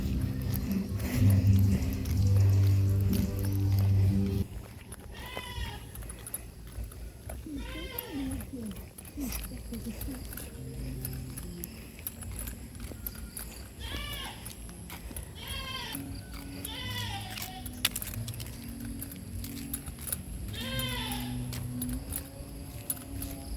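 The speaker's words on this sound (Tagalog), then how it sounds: "maingay yung kambing." A goat bleats repeatedly in the Philippines, a series of wavering calls recurring every few seconds at moderate distance, following a loud stretch of music at the start, with occasional background noise.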